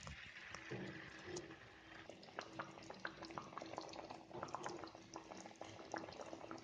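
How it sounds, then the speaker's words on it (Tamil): A village-style fish curry (kuzhambu) simmers in a pot, a faint, close bubbling with many small irregular pops and gurgles over a soft steady hiss. "இப்போ இது கொதிக்குது, இதில் நம்ம ஃபிஷ்ஷை போட்டுடலாம்"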